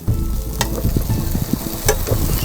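Food cooks in a pan over an outdoor fire, a steady close sizzle with occasional stirring scrapes and brief clinks, no talking.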